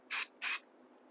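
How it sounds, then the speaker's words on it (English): Two short hissing bursts of Super 77 spray adhesive from an aerosol can, close by, separated by a brief pause, then quiet. "I'm going to spray the back of it with some of this Super 77 spray adhesive"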